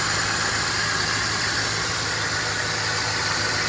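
A 2006 Dodge Ram 1500 Mega Cab V8 idles steadily just after new spark plugs went in, a loud, even, continuous rumble with broadband hiss and no talk.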